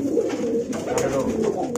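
A courting male pigeon coos loudly and steadily at close range, a continuous low throaty burble.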